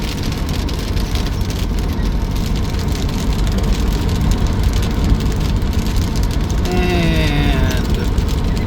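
Heavy rain drums steadily on a car driving on Route 66 near New Mexico, with road and engine noise underneath and a brief whistling tone near the end.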